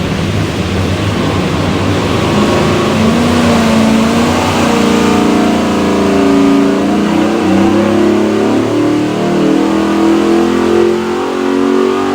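A 429ci LS3 V8 in a 1969 Chevelle, with Terminator X fuel management and drive-by-wire, revs hard on a dyno, its loud roar climbing steadily in pitch through a long sustained pull.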